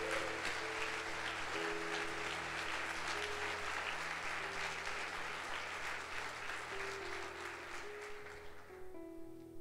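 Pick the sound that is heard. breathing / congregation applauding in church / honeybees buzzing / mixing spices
congregation applauding in church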